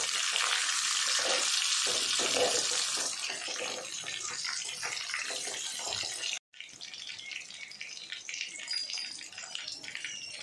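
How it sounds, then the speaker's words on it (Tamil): Fish fillets coated in masala frying in hot oil in a pan, a loud continuous crackling sizzle close up, briefly cutting out before resuming steadily. "மீன் 2 பக்கமே நல்லா பொரிஞ்சு வந்துருச்சு"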